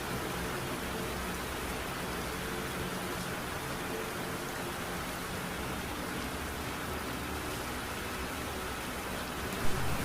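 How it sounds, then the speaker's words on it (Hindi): Heavy rain falls as a dense, even hiss that stays constant throughout, broad and enveloping with no voices and only a faint knock near the end. "वहीं थोड़ी देर बाद वहाँ पे बारिश आने लगती है।"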